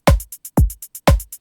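Electronic drum pattern of punchy kick and snare hits with a quieter hi-hat set to velocity 40 ticking fast between them, three strong beats over about a second and a half, dry and close.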